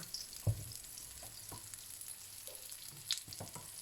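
Roti frying in oil in a pan, a faint steady sizzle with occasional soft pops and scrapes from stirring, quiet and close with no talk.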